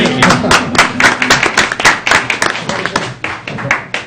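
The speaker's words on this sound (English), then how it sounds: "We can give them a round of applause" A room full of people applauds, dense rapid clapping that stays loud throughout and thins slightly toward the end.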